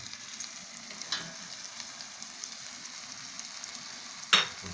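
Onions dropping into chicken already browning with spices in a pot, giving a steady hiss of frying with a couple of soft clatters of stirring; no one speaks.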